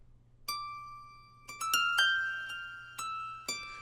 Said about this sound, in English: and then the Angelic harp for my more intimate harp